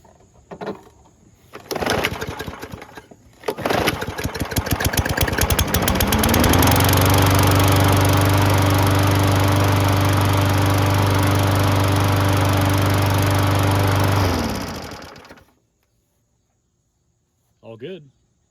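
Craftsman 21-inch push mower with a Briggs & Stratton engine, pulled a couple of times, then firing and running loud and steady for about ten seconds before cutting off; a voice briefly speaks near the end.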